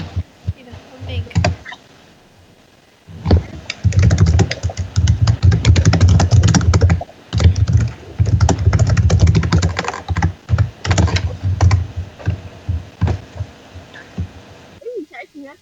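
Rapid clicking of computer keyboard keys in steady bursts, close and fairly loud, with brief pauses between runs; a person speaks briefly near the start.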